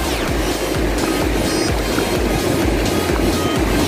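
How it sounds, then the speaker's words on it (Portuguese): Ocean waves break and wash up on the beach at Praia Grande, São Paulo, with swimmers in the water, a loud, continuous surf roar with repeated rushing swells and no voices. "Olha o barulho das ondas aí, a água chegando aqui"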